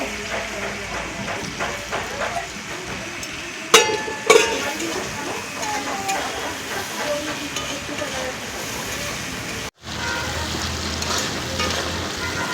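Chopped tomato frying with salt in a pan for rui fish curry, a steady close sizzle with stirring scrapes and a couple of sharp utensil clinks.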